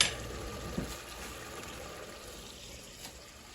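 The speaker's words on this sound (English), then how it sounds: "just before I put it in, I'm gonna give it a little rinse up again" Dry cured food rinsed under running tap water before cooking, a steady close splashing stream with a small clunk near the start; no talking.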